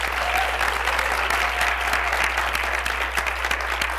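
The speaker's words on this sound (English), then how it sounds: "Why don't we clap for Nira?" Sustained audience clapping for Nira at a progressive political event with Mayor Bill de Blasio, a dense, even wash of applause from a crowd throughout, with a low steady hum underneath.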